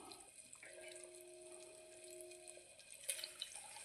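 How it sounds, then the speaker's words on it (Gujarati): Water runs from a tap in a thin, steady trickling stream into a pot of vegetables for a Gujarati curry, faint and close, with a brief splashy burst near the end and no talking. "હવે થોડું પાણી નાખી દો."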